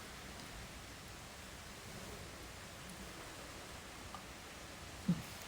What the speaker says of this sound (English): Listen to the rain and the wind.